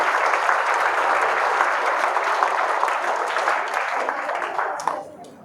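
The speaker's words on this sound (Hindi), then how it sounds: "ये तो तालियां मार रहे हैं" Sustained audience applause at a foundation launch event, a dense steady wash of many hands clapping that gradually thins and fades out near the end.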